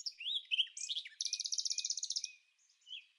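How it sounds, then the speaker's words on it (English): Laughing gull calling on a Bahamian beach, a close, loud run of rapid nasal laughing notes in a steady rhythm, with a few shorter calls before and one faint call after; no talking. "The laughing gull."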